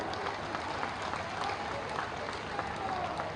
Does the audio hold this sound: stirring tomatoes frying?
no